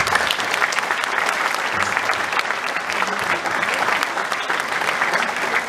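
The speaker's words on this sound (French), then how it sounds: "je crois qu'on peut les applaudir très fort." Loud, sustained applause from a large crowd at a sports awards evening, steady and dense throughout with no pauses.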